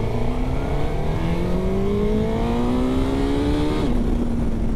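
A Suzuki GSX-S1000GX motorcycle accelerates hard with the throttle opened, engine note climbing steadily in pitch through a long rising pull, then dropping briefly at a gear change before pulling again; loud and close, with no voices.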